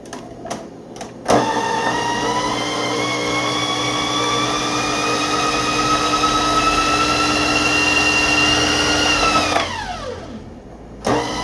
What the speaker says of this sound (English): Just enough to get it blended.